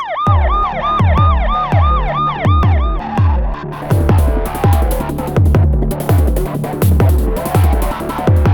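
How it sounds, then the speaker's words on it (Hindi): A loud, close ambulance siren wails in a repeating rising-and-falling pattern, then switches to a faster, harsher warble, with no talking. "एम्बुलेंस?"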